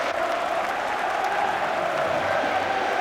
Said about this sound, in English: Terrific applause all around this stadium